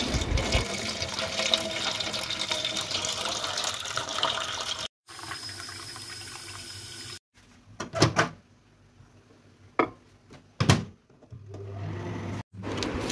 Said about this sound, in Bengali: এবার আমার বোতলে জল ভরবো, ম্যাগির জল ভরবো, চা বসাবো,